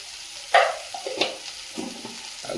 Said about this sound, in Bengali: টমেটো ভেজে তুলে নিয়েছি, পেঁয়াজ, আদা, রসুন, কাঁচা লঙ্কা সব দিয়ে দিয়েছি তেলের মধ্যে